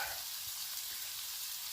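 Butter sizzling steadily in a pan alongside boiling noodles at a campervan stove, a close, even hiss with no talk.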